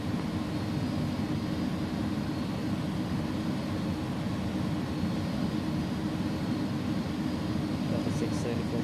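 Jet engines of an iniBuilds A300 in the X-Plane 11 flight simulator, a steady loud roar and rumble holding throughout, with a voice talking over it.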